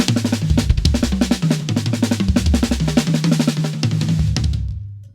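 A drum kit plays fast, even rudiment chops with no accents, a dense, flat stream of strokes over low drum tones, close and loud, ending with a brief ring-out.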